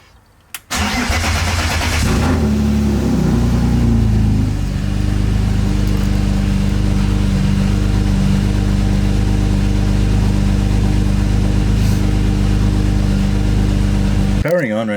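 A BMW E36 engine cranks and catches, then settles into a loud, steady, rich-running idle nearby that continues for over ten seconds before a brief noise at the end.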